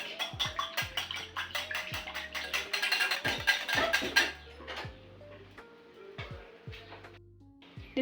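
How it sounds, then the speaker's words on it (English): One egg and milk are whisked together in a bowl, a fast run of rhythmic clinking taps that slows and thins toward the end, heard close and alone. "We whisk."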